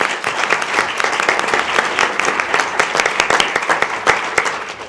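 An audience at a school board meeting breaks into dense, lively applause of many hands clapping, loud and sustained for several seconds.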